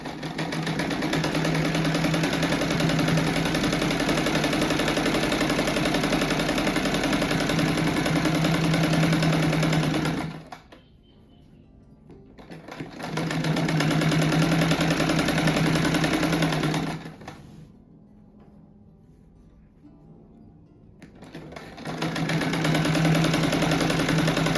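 A sewing machine stitches along the bias binding seam of an oval rug, a loud, steady mechanical whir that runs in long stretches and stops twice before starting again.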